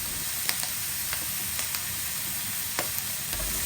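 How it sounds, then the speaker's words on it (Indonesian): Chicken pieces sizzle as they grill packed tightly in a Teflon pan for a Batak-style home cooking session, a steady fizzing hiss broken by a few faint crackles and pops. "Setelah kita potong-potong dan cuci bersih, langsung kita panggang. Aku panggang pakai teflon aja ya."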